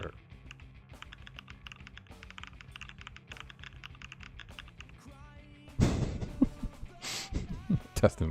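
Rapid typing on a computer keyboard, a steady stream of close, light key clicks under background game music, ending in a couple of louder thumps and rustles.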